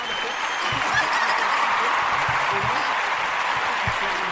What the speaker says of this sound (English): Everybody gets to take this applause.